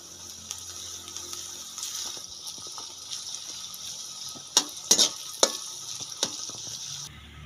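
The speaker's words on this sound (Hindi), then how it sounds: "इसको थोड़ा सा फ्राई करें।" Ginger and garlic paste frying in a pan for a vegetable macaroni dish, a soft constant sizzle with a few sharp spoon clicks against the pan clustered near the end.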